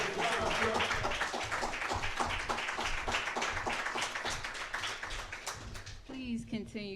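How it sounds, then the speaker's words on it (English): A crowd claps steadily in dense, continuous applause at a religious talk on Islam, and a voice begins speaking over it near the end. "Bring her on with a loving round of applause."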